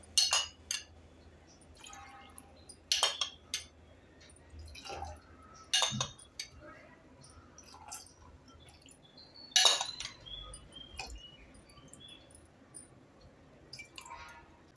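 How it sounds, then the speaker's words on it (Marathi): Tender coconut water is poured in small splashes into a glass holding basil seeds and coconut flesh pieces for a sherbet. Faint, intermittent pours mix with soft glass clinks in a quiet room. "थोडं थोडं शहाळ्याचं पाणी घालूया।"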